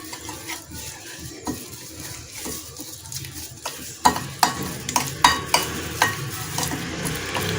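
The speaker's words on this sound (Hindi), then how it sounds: "ये सारे मसाले अब इस दही में जाएंगे। इसको मिक्स करेंगे इस तरह" A spoon works powdered spices, cumin and black pepper among them, into yogurt in a bowl: soft stirring at first, then a run of rhythmic, close scraping taps against the bowl's side.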